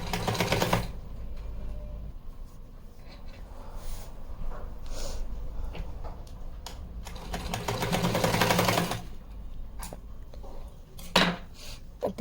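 A sewing machine stitches fabric for a small Laddu Gopal dress in short bursts of rapid, rattling needle strokes separated by pauses and small clicks, close and quiet.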